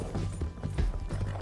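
Horse galloping in the video game Red Dead Redemption 2 during a chase, quick rhythmic hoofbeats thudding on the ground, fairly quiet and brief.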